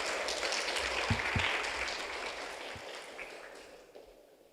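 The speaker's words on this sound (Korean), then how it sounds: "여러분 박수로 청해 듣도록 하겠습니다." Broad, steady clapping from a conference audience fills the whole stretch, fairly loud at first and gradually thinning out toward the end.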